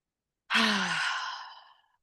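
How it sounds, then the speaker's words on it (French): A single deep, audible breath, drawn in and slowly let out in a long sigh, close and alone in a quiet room. "On prend une grande respiration."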